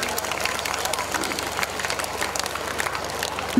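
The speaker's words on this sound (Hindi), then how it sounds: "जोरदार तालियों के साथ" An audience at Divine English Academy's Sankalp 2022 event gives a guest a loud welcome of steady, dense clapping that continues without pause throughout.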